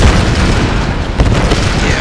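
An explosion in the video game Tomb Raider, set in geothermal caverns, rolls as a loud sustained boom with deep rumbling and a sharper burst about midway, no talking over it.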